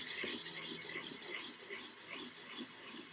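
Sandpaper rubbing over painted binding on a guitar body, a close, continuous raspy scraping in quick back-and-forth strokes, moderately quiet and alone.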